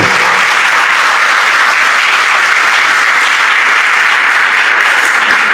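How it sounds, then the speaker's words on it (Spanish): Loud, steady applause from a congregation filling the room at a religious healing workshop, dense clapping sustained throughout without a break. "vamos a darle un fortísimo aplauso a Jesucristo"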